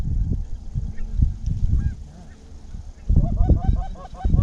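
Geese honk repeatedly during a duck and goose hunt in a Minnesota blizzard, a rough run of calls that thickens into a dense, loud cluster near the end over low wind rumble, with faint voices now and then.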